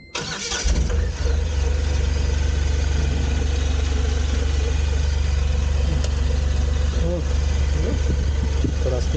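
An Ashok Leyland Bada Dost i5 truck diesel engine cranks and catches, then settles into a loud, steady low-pitched idle close by, with a person speaking intermittently over the running engine.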